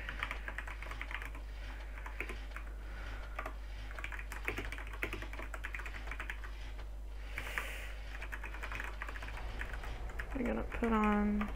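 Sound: computer keyboard typing

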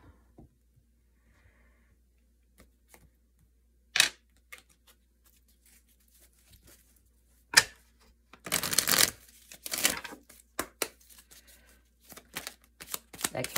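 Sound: tarot cards being shuffled

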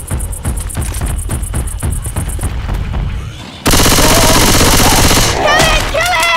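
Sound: gunfire shooting at the tank in video game Left 4 Dead 2

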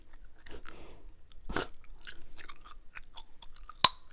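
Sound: chewing gum

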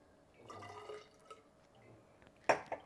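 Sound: liquid pouring back during homemade gin distilling

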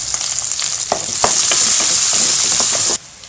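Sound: ginger, garlic, onion, dried chilli, curry leaves sautéing in pan

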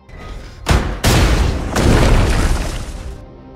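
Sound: explosion in film

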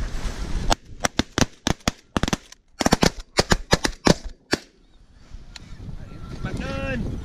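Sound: shotgun shots at snow geese during a hunt

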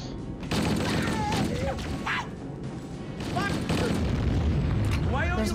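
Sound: grenade explosions in Halo Combat Evolved video game

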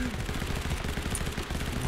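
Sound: gunfire in a shooter video game

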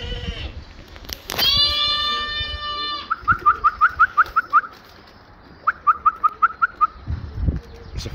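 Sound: whistling to call homing pigeons

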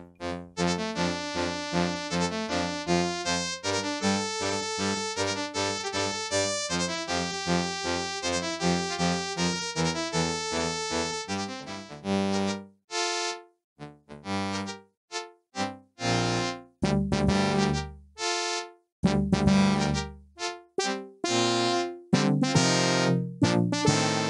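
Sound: Wizardry 7 DOS video game music without Roland sound card

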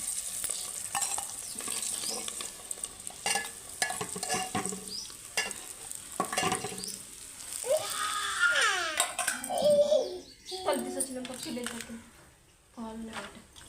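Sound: onions frying in a pan

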